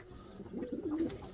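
An Indian fantail pigeon coos softly at close range, a short low rolling call over faint background rustle.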